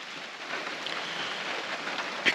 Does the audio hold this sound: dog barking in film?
no